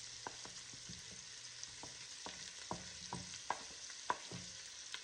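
Onions, celery, peppers and carrots sizzle faintly in a soup pot for Italian sausage tortellini soup, with a spoon scraping and stirring in irregular strokes, each stroke giving a soft clack over the quiet frying hiss.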